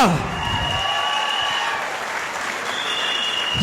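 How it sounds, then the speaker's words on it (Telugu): Steady, moderately loud clapping from a seated crowd at an event, an even sustained round of applause with faint background tones. "ఒకసారి సలీం సార్ గ్రాండ్ క్లాప్స్ జోరుగా"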